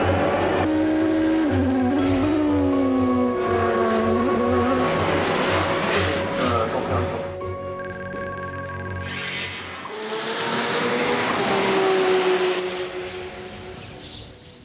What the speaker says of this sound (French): Every car surges forward looking for an opening